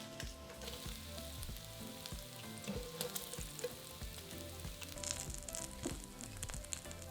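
Lamb sizzles and spits in a frying pan, a close, continuous crackling fry with occasional sharper pops and light stirring or tong clinks, no talking over it.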